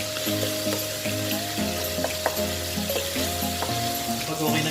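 Tomatoes being sautéed in a pan, a continuous close sizzle with scattered soft clicks of stirring, and a droning tone running beneath it throughout.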